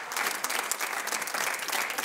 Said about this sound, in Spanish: Un aplauso para este hombre, para Martín.